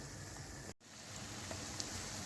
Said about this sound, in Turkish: Dinlendirmiş olduğumuz donutlarımızı yağımızın içerisine alıyoruz